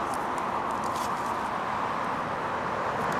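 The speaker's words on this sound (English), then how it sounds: "these cars coming driving by" Cars drive by on a busy street on a hot day, a continuous broad roar of traffic and tire noise, fairly loud and steady without clear individual passes.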